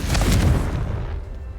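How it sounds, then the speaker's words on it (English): A Confringo spell in Hogwarts Legacy explodes in a single loud, close boom that rolls off and fades over about a second. "I just want to blow these things up because they're so annoying"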